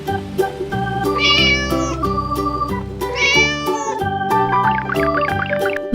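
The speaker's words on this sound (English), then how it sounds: "Cat." A cat meows twice in long, rising and falling calls, with a shorter trill of mews near the end, all set over a bouncy children's tune.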